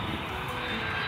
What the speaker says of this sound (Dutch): Kijk, daar gaat alweer een vliegtuig.